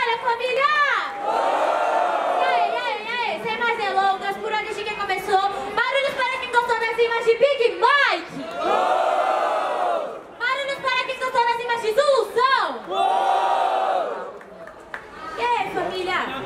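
A large crowd at the grand final of a Brazilian street rap battle cheers and shouts in loud, sustained waves, the roar dipping briefly a few times before surging again.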